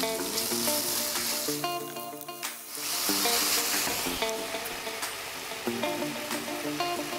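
Thinly sliced pie filling fries in a pan and is stirred now and then. A steady, loud sizzle runs throughout, broken by short scraping stirs, with light music playing underneath.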